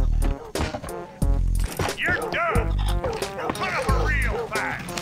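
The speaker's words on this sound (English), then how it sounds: "Dude, is this dog gonna chase us?" A dog in the open world of Red Dead Redemption 2 barks repeatedly with yips and whimpers, loud and close, in an irregular run of sharp barks with game ambience around it.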